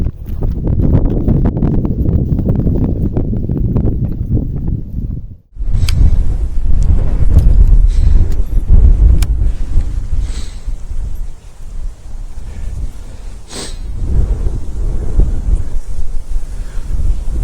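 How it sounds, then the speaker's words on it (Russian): Strong gusting wind buffets the microphone outdoors beside a small pond, a heavy low roar that briefly drops out before surging again, with intermittent rustles and knocks. "Ветер сегодня до 17 метров в секунду."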